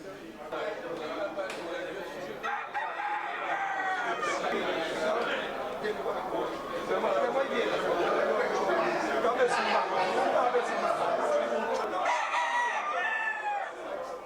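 Fighting roosters at a cockfight in Martinique crow and cluck amid a dense, noisy crowd, with bird calls repeatedly rising above steady human chatter throughout.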